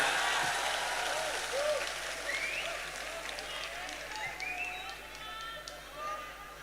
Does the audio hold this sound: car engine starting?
no